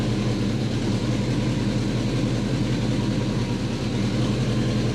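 A Subaru engine runs steadily and close as the car creeps forward after an automatic-to-six-speed manual gearbox swap, a constant low droning hum with no breaks.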